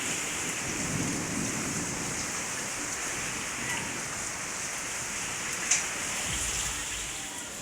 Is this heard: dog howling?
no